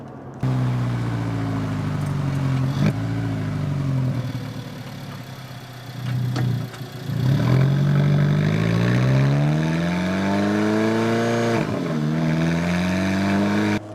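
A small sports car drives in its automatic dual-clutch mode. The engine hums and rises in pitch as it accelerates, drops briefly at quick gear changes, then pulls again loudly and close by. No one speaks.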